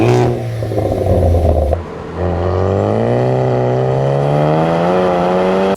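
Ford Focus ST Mk3 engine and exhaust revving, a loud close rising drone that dips briefly and then climbs steadily in pitch, heard alone without talk.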